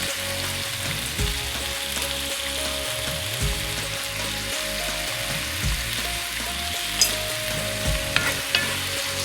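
Tomatoes for dhal cook in a pan with a dense, continuous sizzle and bubbling, close up, with occasional stirring clinks and scrapes toward the end; no voices.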